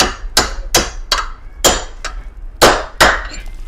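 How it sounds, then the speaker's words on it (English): Heavy hammer blows driving a big punch to seat the knurled wheel studs on a 2021 Silverado during a lift kit install, about eight loud, sharp metallic strikes in an uneven rhythm, close up. "I'm gonna take a big punch and I'm gonna drive these knurls"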